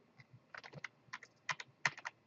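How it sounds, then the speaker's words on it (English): Computer keyboard keys are tapped in quick uneven clusters, close and fairly quiet, while pasting copies of parts for a laser-cut model chair; no speech. "you can actually hit Control V on your keyboard"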